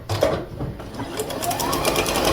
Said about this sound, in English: and sew along the edge, 1/4 inch